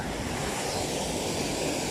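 Water rushes constantly at Paing Falls in Dolores, Quezon, where a river has turned into a waterfall, a loud, dense, unbroken roar close by with no voices.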